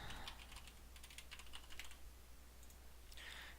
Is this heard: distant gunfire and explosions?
no